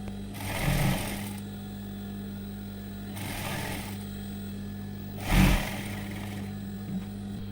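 A sewing machine stitches a cross strip onto a blouse, running in three distinct bursts of whirring separated by quieter pauses, close and clear with no talk.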